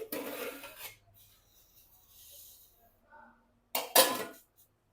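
Metal lid lifted off a pot of Chitti Muthyala biryani, two short scraping clatters at the start and near the end with quiet shuffling between, close by.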